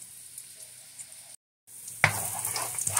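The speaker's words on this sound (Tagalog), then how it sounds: "Ayan muna natin maluto ang garlic." Garlic frying in a pan with a steady sizzle that jumps louder partway through, after a brief silent gap.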